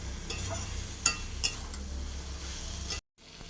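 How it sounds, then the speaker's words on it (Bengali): Fried fish is stirred into masala in a pan over a soft sizzle, with a couple of metallic scrapes of a utensil before a brief cut. "মশলার সাথে ভালোভাবে মাখিয়ে নেবে"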